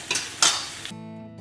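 Pomfret frying in cafreal masala in a pan, heard as a close, bright sizzle with a couple of scraping clatters as the fish is turned, which cuts off abruptly into quiet.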